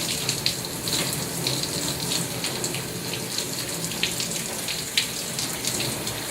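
Tap water running steadily into a sink during a surgical hand scrub in an operating room setting, a continuous hiss with small splashes and drips, close and moderately loud, no talk.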